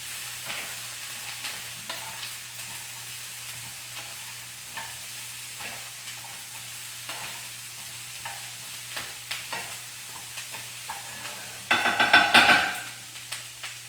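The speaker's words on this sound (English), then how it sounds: "I now have my sweet potatoes and my onions in my pan here. And I'm just going to give it a quick mix." Sweet potatoes and onions fry in a small pan with a soft steady sizzle, while a utensil scrapes and taps through a quick stir, ending in a louder clattering mix near the close.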